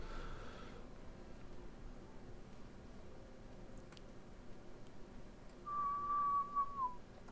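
A single person whistles into a radio transceiver set to sideband, a faint steady tone lasting just over a second near the end, over low background hiss.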